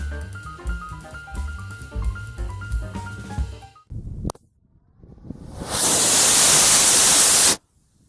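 A homemade PVC rocket motor, Dan Pollino's K50 design, fires as a loud roaring hiss lasting about two seconds and then cuts off abruptly, after quieter musical sounds and a sharp crack.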